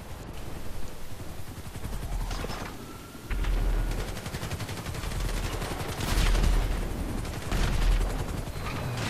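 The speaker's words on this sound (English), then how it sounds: "Just explosions everywhere." Rapid gunfire crackles almost nonstop alongside heavy, booming explosions, a loud and dense battle din that swells in several bursts, in the video game GTA V Online.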